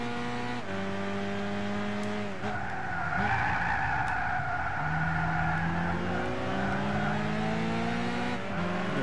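A car drifting in the Gran Turismo 6 racing game, with a sustained tire skid squeal over a droning engine that shifts pitch as the car slides and accelerates.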